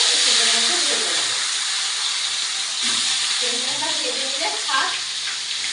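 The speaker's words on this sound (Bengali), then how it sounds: "কড়াই তেলও গরম হয়ে গেছে এবার আমি এই নুন হলুদ লেবুর রস মাখানো এবং সামান্য তেল মাখানো চিকেনগুলো এক একে" Chicken pieces marinated in salt, turmeric and lemon juice fry in hot oil in a wok, giving a loud, steady sizzling hiss throughout, with a voice talking beneath it.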